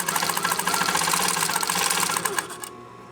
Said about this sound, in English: I'm going to stitch very close to the fabric edge